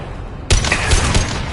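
Gunfire in Mass Effect 2 opens abruptly after a short quiet stretch, a loud burst of rapid shots with heavy low thumps that carries on to the end.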